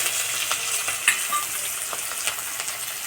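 Chopped onion sizzling and frying in hot oil with five-spice seeds, a steady loud hiss with crackling pops and a faint clink of a utensil partway through.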